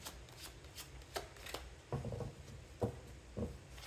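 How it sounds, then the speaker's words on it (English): Tarot cards are shuffled by hand in a quiet room, a series of soft, close riffling and tapping bursts at irregular intervals with no voice. "One more shuffle, one last shuffle."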